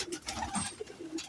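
Pigeons and their young coo softly in a brief burst of low murmuring calls.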